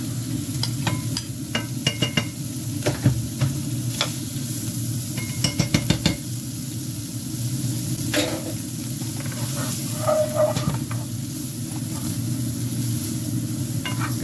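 Steady whirring air fryer hum runs throughout while pulled pork crisps, with scattered clinks and scrapes of utensils and pans and a brief sizzle in a home kitchen.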